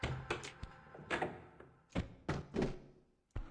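A door opening in Tomb Raider 2 Remastered, a series of heavy thunks and knocks in uneven bursts with short pauses between them, fairly close and clear, with no talk.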